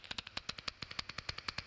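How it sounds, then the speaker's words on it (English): Bat echolocation calls from the search phase, recorded in Bolivia, come as a rapid, steady train of sharp ticking pulses, about ten per second. They sound fairly crisp and close, with no voices over them. "A bat's chant has numerous phases, beginning with a searching phase like this."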